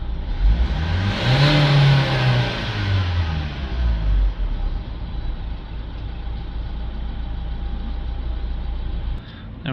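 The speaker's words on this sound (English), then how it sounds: "Let's give it a rev now." A Renault Trafic van engine is revved up in one rising and falling sweep near the start, then settles back to a steady idle hum close by.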